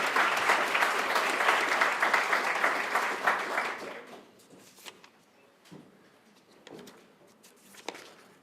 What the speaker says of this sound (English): another big round of applause for Big Y, our presenting sponsor